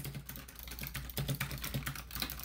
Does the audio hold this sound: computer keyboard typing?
yes